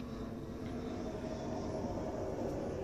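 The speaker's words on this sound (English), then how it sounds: "Airplane." An airplane passes overhead as a steady, broad roar that stays constant throughout, with no voices over it.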